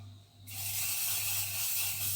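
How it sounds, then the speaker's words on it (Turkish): Hair spray hisses from an aerosol can onto a macrame rope feather wall hanging, a steady close spray starting abruptly after a moment of quiet, over a low constant hum. "Duvarda sabit kalması için saç spreyi kullanıyoruz arkadaşlar."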